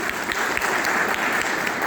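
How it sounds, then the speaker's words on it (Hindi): Seminar attendees at a network marketing business development program break into loud, hearty clapping, a thick, continuous burst of many hands heard up close, with no speech over it. "जोरदार तालियां सबके लिए।"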